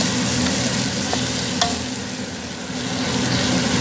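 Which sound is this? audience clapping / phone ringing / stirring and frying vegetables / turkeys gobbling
stirring and frying vegetables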